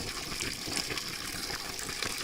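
Water gushing at full flow from a two-inch pipe on a farm, a dense continuous rushing wash with no breaks, fairly loud and close.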